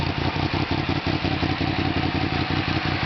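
A 2017 Yamaha FZ10 / MT10 motorcycle with a modified exhaust, ceramic-coated header and FTecu tune idles close by, its steady, lumpy beat pulsing evenly throughout with no voices.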